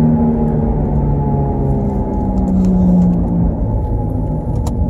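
A car with a failing wheel bearing drives along, giving a loud, steady low rumble and droning hum from the wheel under road noise, constant throughout with no talking.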